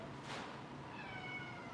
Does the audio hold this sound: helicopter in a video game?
no